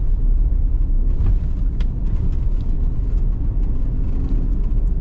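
Ford Ranger Tremor speeding down a dirt trail, a loud, continuous road-and-engine rumble with scattered rattles and knocks from the rough ground.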